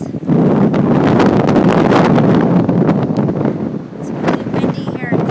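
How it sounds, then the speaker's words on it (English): Strong, cold wind buffeting the microphone on the Pacific coast along Highway 1 in California, a steady loud roar with gusty rustling throughout. "It's really windy here and cold."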